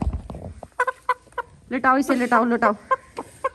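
A rooster held down for a hypnosis experiment clucks and squawks loudly and close by in a run of harsh, drawn-out calls, mixed with short clucks and voices giving instructions.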